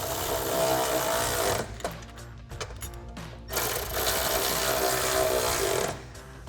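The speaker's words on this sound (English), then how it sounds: "we're going to tighten them down with our 13mm socket" Ford Bronco (2021–2023) RedRock side step bar brackets having their bolts tightened with a 13mm socket: two loud, steady runs of buzzing power-tool whir close by, separated by a quieter pause with light clicks.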